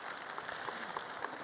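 Church congregation applauding an announcement, a steady wash of many hands clapping throughout, moderately distant and even.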